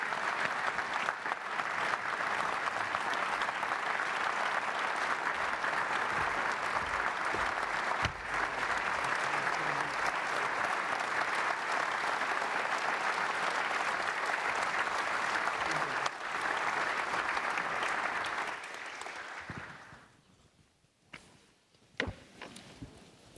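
A large audience at the Reagan Library applauds steadily and loudly to welcome former U.S. Vice President Mike Pence, a dense sustained clapping that fades out near the end, followed by a few scattered sounds.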